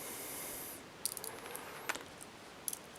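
Zen Magnets, small magnetic spheres, clicking and snapping together as a chain is folded into a shape, a few sharp, close, light metallic clicks spaced irregularly over a quiet background.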